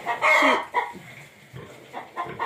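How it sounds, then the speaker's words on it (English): A hen in a coop beside pig pens gives a loud squawking cluck, then several softer clucks spaced unevenly, close by. "Right there is a hen."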